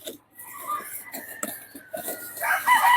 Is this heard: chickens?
yes